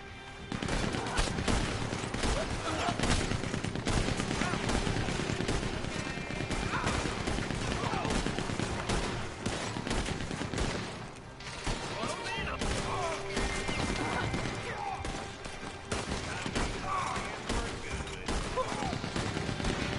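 Cannons boom in Red Dead Redemption 2 amid dense, continuous gunfire and crashing, a loud unbroken barrage lasting the whole stretch.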